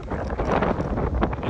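Strong wind blows outdoors at a flatbed truck loading site, a loud continuous broadband roar buffeting the microphone with gusty surges and no clear speech.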